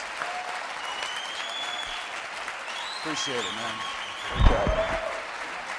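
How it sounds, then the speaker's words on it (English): Audience applause at a network marketing event, a broad steady wash of clapping that swells near the end, with someone speaking over it. "give these guys a big round of applause, would you?"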